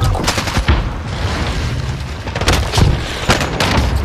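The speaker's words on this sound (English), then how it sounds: "Sending dynamite. Stun grenade out." Dynamite and a stun grenade go off in a shooter video game, a dense run of loud booms and rapid gunfire crackling continuously from start to finish, close and heavy, with no talk.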